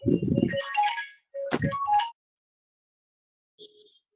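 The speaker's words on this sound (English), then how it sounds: "a ringing tone." A short electronic phone ringtone plays a few melodic notes, falls silent, then a faint tone briefly sounds again.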